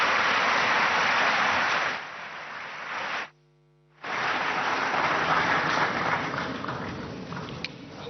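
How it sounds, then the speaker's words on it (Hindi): A ceremony audience at India's national children's awards event applauds loudly for the President, a dense, steady wash of clapping that dips midway, cuts out briefly, then returns just as strong. "एक बार जोरदार तालियां माननीय राष्ट्रपति महोदया के लिए।"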